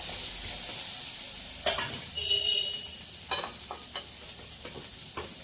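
Crab frying in hot oil, a constant close hiss and sizzle with a few scraping stirs and clatters of the spatula against the pan.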